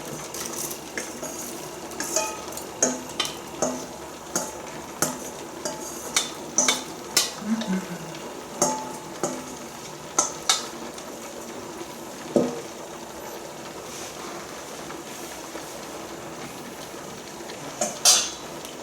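Potatoes for picadillo fry in a pan while a utensil stirs them, giving scattered scraping clinks and taps over a continuous light sizzle, close and fairly loud with no voices.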